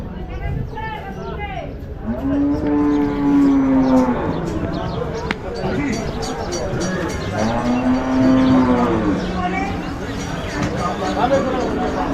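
Cattle moo twice in long, loud calls at a busy rural livestock market, with crowd chatter and people talking throughout.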